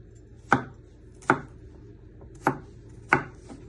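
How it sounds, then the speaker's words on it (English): A knife cuts down through food for a chicken balti curry onto a cutting board, landing in four crisp, separate knocks at an uneven, unhurried pace, close and clear. "Then you'll place your knife on top, press down, and then you'll finally slice this."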